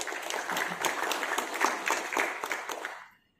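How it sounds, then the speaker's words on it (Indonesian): A church congregation claps together in a full burst of applause that holds steady for a few seconds, then fades out quickly into silence. "Tepuk tangan kita berdua."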